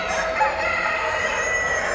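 A rooster crows at a large Orpington chicken show, a sustained loud call with clucking fowl and hall bustle close behind it, and no talk.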